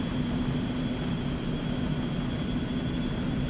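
An Eclipse 550 light business jet taxis in the X-Plane 11 flight simulator, its engines giving a steady, even whine and low rumble that holds constant throughout, with no talk over it.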